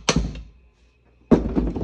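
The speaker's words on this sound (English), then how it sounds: "Pound that out with the hammer." Hammer blows pounding a centerpiece out of a Honda 300EX ATV part during repair, two loud, close metallic thuds about a second apart, each ringing briefly before fading.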